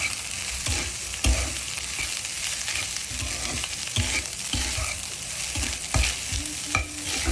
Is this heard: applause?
no